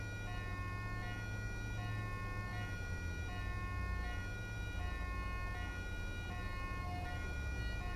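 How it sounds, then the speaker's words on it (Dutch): A wailing ambulance siren from the video game GTA 5 repeats in steady cycles over a constant low engine hum, fairly faint and alone without talk. "de ambulance komt geloof ik wel nog voor hem."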